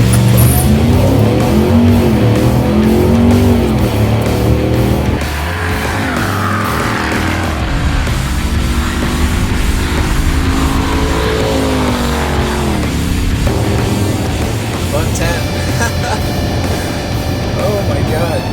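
A 1000-horsepower Hennessey Mammoth 1000 TRX pickup truck engine roars and revs as it accelerates hard to 110, with voices speaking over the steady rumble throughout.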